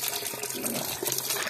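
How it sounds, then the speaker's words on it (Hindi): A 12V DC solar-powered water pump pushes a strong, steady gush of water that splashes and pours continuously at close range, with no voices. "अभी तक ये बिल्कुल ज़बरदस्त पानी निकाल रहा है"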